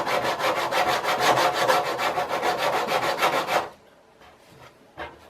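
Wood being sanded by hand with coarse 80 grit sandpaper, a brisk rhythmic rasping of quick back-and-forth strokes that stops abruptly, followed by a few faint handling sounds.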